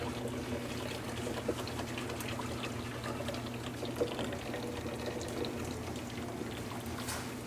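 Hot broth pouring through a colander strainer, a continuous close splashing and trickling stream of liquid with no talk.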